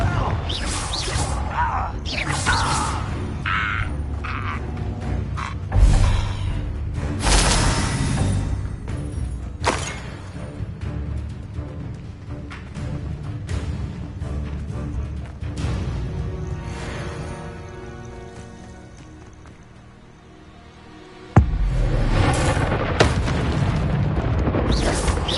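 A Confringo explosive spell fires in the video game Hogwarts Legacy, giving a loud booming blast among dense game effects and crashes, with a sudden sharp impact near the end after a brief lull.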